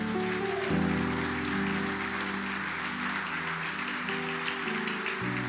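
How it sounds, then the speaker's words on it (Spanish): Church congregation applauding loudly during a sermon, a dense steady clatter of clapping under sustained musical tones for the whole stretch. "dale un fuerte aplauso al Señor."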